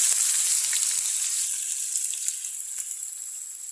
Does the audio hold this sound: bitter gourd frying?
yes